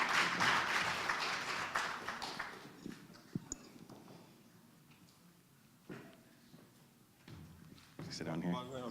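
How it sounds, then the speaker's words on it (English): Applause from the audience at a business summit panel bursts out at the start, thins away, and returns briefly near the end. A speaking voice runs over and between the clapping. "Round of applause."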